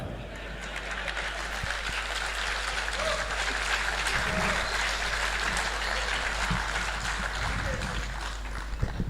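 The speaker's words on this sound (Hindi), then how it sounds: "आप लोगों ने तालियां बजाई" An audience claps through a Hindi speech criticising the media, a continuous clatter of hands with a low steady hum underneath.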